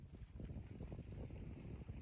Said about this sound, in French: Le vent frappe mon visage, me réveille et m'emporte loin.